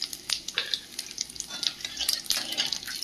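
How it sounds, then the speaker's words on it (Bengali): Whole spices (garlic, bay leaves, cloves, cardamom and cumin with a pinch of sugar) sizzle in oil in a pan while a utensil stirs them in quick, repeated scraping strokes close by, with no talking. "মশলাটা ভাজা ভাজা হয়ে গেছে"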